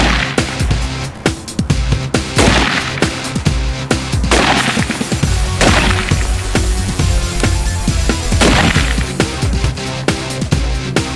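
Rapid volleys of gunshots crack out at a police shooting training drill, with dense overlapping bursts of gunfire, loud and close, echoing continuously throughout with brief gaps between clusters of shots.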